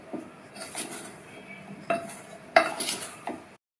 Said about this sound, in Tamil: மாவெல்லாம் எல்லா காயிலையும் கோட்டாகிற மாதிரி மிக்ஸ் பண்ணி விட்டுருங்க.